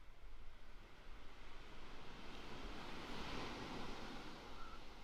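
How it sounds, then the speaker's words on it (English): Gentle, small ocean waves wash steadily onto the south-end beach of Pawleys Island on a calm morning, a continuous close surf roar with soft swells and some wind rumble, no voices. "that sounds like a somewhat gentle wave"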